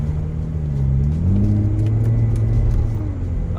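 A BMW 335i driving along, its engine giving a steady close rumble inside the cabin that swells slightly as the revs climb, with road noise underneath and no talking.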